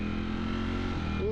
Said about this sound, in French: je vais faire le test de la Ducati Street Fighter V4.